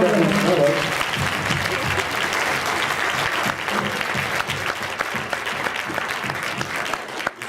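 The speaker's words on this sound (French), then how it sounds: "Est-ce qu'on peut les applaudir?" A school concert audience applauds the two student sound and lighting technicians, a full, steady roar of clapping that fades slightly toward the end, with a voice speaking briefly at the start.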